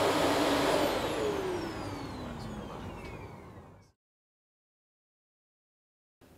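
A Dyson DC41 vacuum cleaner whines loudly in a testing laboratory, its motor pitch sliding down as it winds off, then silence.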